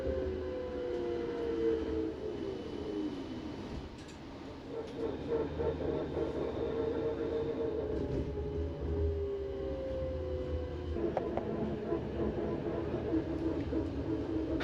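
The Belgian coastal tram, the Kusttram, runs between Zeebrugge and Blankenberge with a steady rolling rumble and a drawn-out wheel squeal or whine rising and falling through the run, heard close with no voices.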